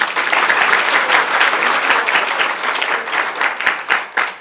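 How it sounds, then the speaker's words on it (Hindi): A crowd at a religious discourse gathering breaks into loud, dense applause, many hands clapping together in a sustained burst that thins toward the end. "जो कहते हैं वो ताली बजाओ।"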